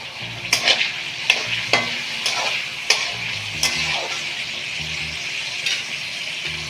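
Capsicum and cut beans fry for mixed fried rice under a constant close sizzle, while a spatula scrapes the pan in regular, distinct strokes, with no talking.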